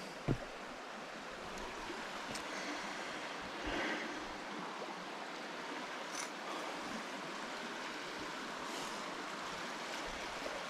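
A creek runs after a rough winter, its water rushing in a steady, broadband wash with occasional small splashes and bumps, faint and continuous without any voices.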